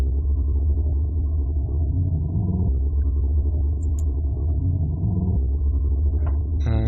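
Minecraft ghast sound sample played as a continuous, loud low drone with the pitch corrector switched off, its pitch stepping up and down unevenly, with a few faint high chirps near the end.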